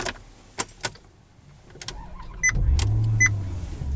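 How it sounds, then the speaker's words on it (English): A 2013 Maserati Quattroporte is started with a flip key. Soft clicks and chimes are followed by the engine cranking and catching into a deep, steady idle rumble, close up with no talk. "Roars into life."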